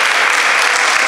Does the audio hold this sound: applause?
yes